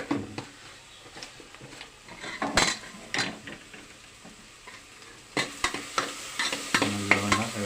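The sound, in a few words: stirring masala dosa filling in a pan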